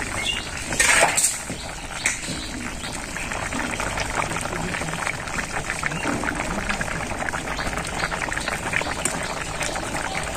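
Fish curry with green jackfruit and river eel simmers in a pot on a village cooking fire in Bangladesh, a steady soft bubbling and hissing with a few clinks of utensils near the start.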